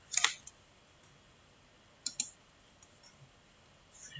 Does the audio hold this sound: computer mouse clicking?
yes